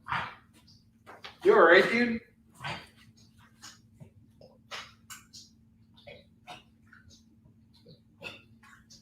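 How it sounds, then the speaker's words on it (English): A dog retches and heaves, with a loud burst of gagging near the start followed by soft whimpers, snorts and breathy sounds, while someone talks to it nearby over a faint steady hum. "My dog is puking up."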